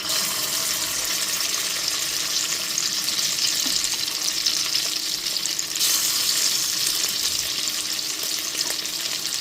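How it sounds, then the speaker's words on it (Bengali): Marinated chicken pieces fry in well-heated white oil over a gas flame, giving a loud, steady, close sizzle and crackle that runs without a break, with no voices. "এইবার ম্যারিনেট করা চিকেনের পিসগুলোকে ভেজে নেব।"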